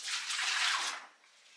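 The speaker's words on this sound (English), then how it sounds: "In the designated dirty area, you can dump your water in the sink." Used water from a basin is poured out into a sink in a clinical dirty area, a brief splashing gush that lasts under a second, then fades to quiet.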